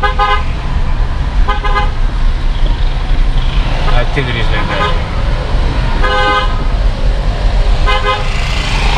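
A car horn toots in several short bursts of two or three beeps, spaced a few seconds apart, over loud road noise and close talking on a street on Roatan Island, Honduras.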